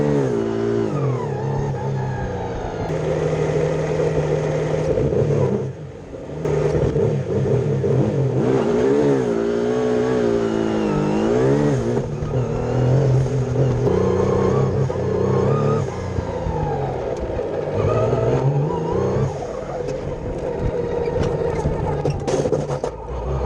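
A 2.5-liter V6 twin-turbo race car engine revs up and down continuously, loud and close, with rising and falling pitch sweeps and a brief dip partway through.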